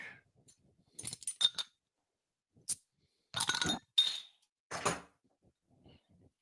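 Glass clinking while a drink with lime is prepared near a podcast microphone, several sharp close clinks and rattles in short separate bursts with quiet gaps between them.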